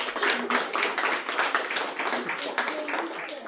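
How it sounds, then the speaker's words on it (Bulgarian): An audience claps for twin princess performers, lively close handclaps in an uneven, continuous patter while voices call out over them. "Аплодисменти за тях."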